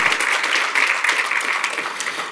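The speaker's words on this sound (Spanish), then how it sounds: "Dale un aplauso a la gloria del Señor." Church congregation applauding during a Spanish-language worship service, a dense, steady wash of many hands clapping at close range, sustained evenly throughout with no voices over it.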